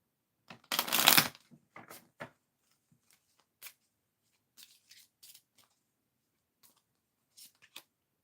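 Tarot cards riffle-shuffled in one loud burst, followed by softer scattered slaps and flicks as cards are drawn from the deck and laid down, close and quiet with no voices.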